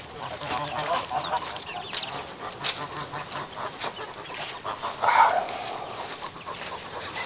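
Runner ducks on a farm quacking and honking in a steady noisy chorus, with one louder call near the end and other fowl calling in the background.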